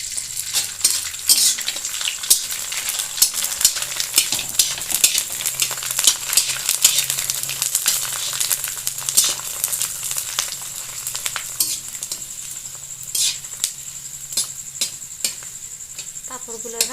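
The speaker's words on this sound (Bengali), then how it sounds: "তেলটা ভালো করে গরম হয়ে গেছে। এবার দিয়ে দিচ্ছি পাঁপড়গুলো।" Rice flour papads frying in hot oil, a steady close sizzle with crackling bursts and occasional light clinks of a utensil, continuing throughout with no talking.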